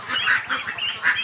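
Large ducklings, one weighing over a kilogram, quack loudly and close up in a rapid, repeating series of raspy honking calls, with no voices.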